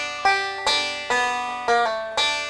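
Banjo picking a quick G lick with forward and backward rolls, bright plucked notes in a steady rhythm with sliding and pulled-off notes, close and clear, no talking.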